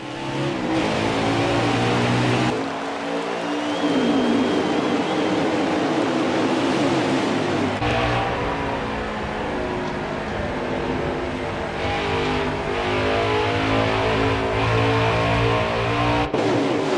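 In the NASCAR Heat 4 stock-car race at Iowa, a pack of race cars roars off the green flag, engines droning and revving steadily through the whole stretch with no voice over them.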